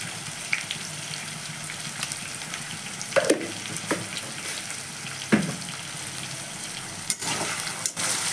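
Raw banana frying in oil in a pan: a low, steady sizzle with a few louder clatters and stirring knocks along the way.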